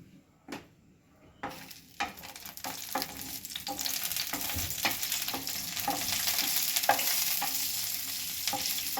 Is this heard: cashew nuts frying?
yes